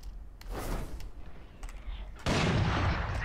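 Gunfire in the Valorant video game: several sharp, close shots in the first half, then a louder burst of heavier fire near the end, with faint keyboard clicks in the background.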